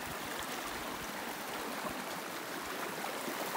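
Water runs at the base of rocks in a small bush hole, a steady soft trickling rush with no break, quiet and close.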